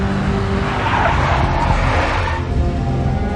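Big black Mercedes in the video game Max Payne, heard as a loud, close tire screech and skid over a rumbling engine, continuous and harsh throughout.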